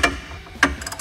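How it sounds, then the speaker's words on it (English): A 3/4 inch socket wrench loosens a bolt on a belt-drive fiberglass cone fan, giving two short metallic ratchet clicks followed by a faint quick clatter, close and alone. "you can come in with your Allen wrench and your 3/4 inch socket"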